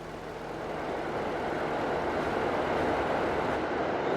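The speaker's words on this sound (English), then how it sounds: "There goes the train" A train in Farming Simulator rumbles past as a steady, broad roar that swells slightly and holds for several seconds, with no talking over it.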